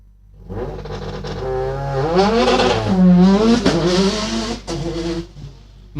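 A Subaru STI rally car races up a hillclimb course, its engine revving hard through rising and falling gear pulls, loud and close, with brief lifts between shifts.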